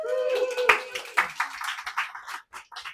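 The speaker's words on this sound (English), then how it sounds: "Give them a round of applause." Audience at a vegan meetup in a Tokyo cafe breaks into a round of clapping and cheering, dense and close, rising out of a voice and carrying on for a few seconds.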